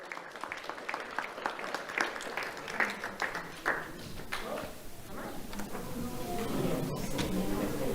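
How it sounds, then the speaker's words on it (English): Moderate applause from an audience at a county sheriff's office awards ceremony for a young award recipient, steady scattered clapping rising slightly toward the end, with some background voices mixed in. "Let's have a round of applause for Aaliyah Rivera."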